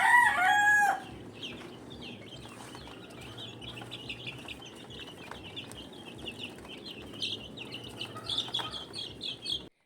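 Chickens and chicks on a game farm, a rooster crow at the start followed by steady clucking and chirping, with brief wing flaps, close and moderately loud.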